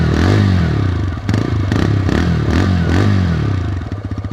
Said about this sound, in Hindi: एग्जॉस्ट नोट जो है ना इसका काफी क्रिस्प एंड स्मूथ है।